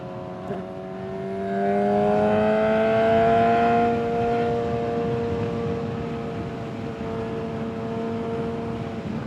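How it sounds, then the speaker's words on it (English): A motorcycle ridden at speed, its engine droning in steady harmonic tones that climb as it revs, with rushing wind buffeting the helmet microphone throughout, loud and close with no talking. "A lot of wind hitting me right now, guys. And the bike itself is real loud."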